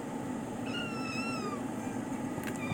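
A cat indoors gives a single drawn-out meow, faint and moderately close, over a steady background hum.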